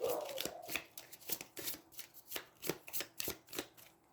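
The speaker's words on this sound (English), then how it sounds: "I then take discard pile, shuffle it into the deck." Cards from a discard pile are shuffled back into a deck during a tabletop game of Aeons End, giving a quick series of crisp riffling bursts close by, with no talking over them.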